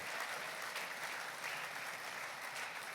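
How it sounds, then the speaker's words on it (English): Audience applause fills the room at a charity celebration, a steady dense wash of clapping that holds evenly throughout without pause. "give them and all of yourselves a thunderous round of applause"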